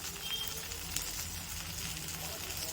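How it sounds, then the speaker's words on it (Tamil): Ragi appam batter poured into a pan with oil drizzled around it gives a soft, steady sizzle and crackle, faint and continuous throughout. "மாவு ஊற்றிட்டு லைட்டாக கொஞ்சம் சுற்றி ஆயில் ஊற்றுங்க."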